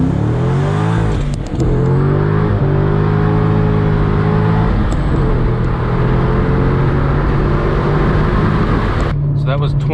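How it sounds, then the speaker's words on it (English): A C6 Corvette engine revs hard accelerating from 20 to 100 mph, climbing through the gears on cold tires, loud and close, with brief shift breaks between rising pulls and a sustained roar throughout. "So that was 20 to 100."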